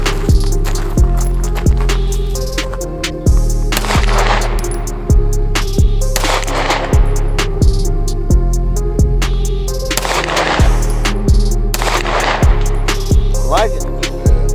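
Gunfire on an outdoor shooting range: loud, sharp repeated shots at irregular intervals over a steady hum, with a few bursts of closer noise in between and no talking.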